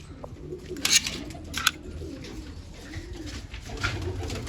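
Pigeons coo in low, rolling murmurs through the whole stretch, with a few sharp flutters or clicks standing out near the start, all fairly quiet and close.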